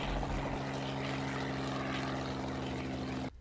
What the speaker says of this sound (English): A neighbor sent their helicopter to survey the farm for other bodies.